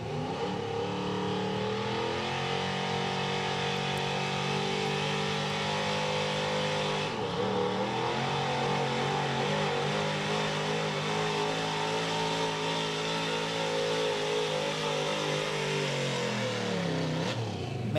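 A Street Gas division pulling truck revs hard at the 2023 Cookport Clash truck and tractor pulling event, its engine roaring loud and continuous for the whole run with pitch rising and dipping as it strains against the sled.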